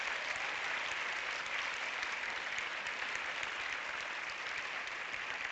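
Sustained applause from a film-awards audience at the LUX Audience Award ceremony, a dense, even wash of many hands clapping steadily throughout, moderately distant with no voices on top.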